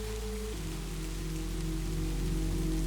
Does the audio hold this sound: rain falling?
yes